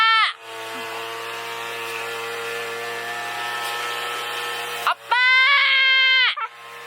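A lawn mower engine roars loudly and close by in a steady whining drone, cutting out briefly before starting up again.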